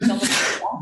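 A single short sneeze bursts out during an online video meeting, a quick breathy blast followed right away by a brief spoken phrase.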